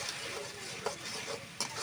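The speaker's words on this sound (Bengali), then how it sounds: "মশলা কষান হয়ে গেছে" A spice paste of ginger, garlic and cumin with turmeric, salt and oil fries in a pan, giving a soft steady sizzle. A few brief scrapes from stirring cut through it.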